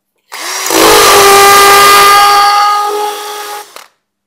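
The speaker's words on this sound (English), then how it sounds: "then switch it to hammer mode." Loud close whir of a hammer drill boring into the wall behind tile, one sustained run of about three seconds with a strong tonal whine that rises then cuts off abruptly.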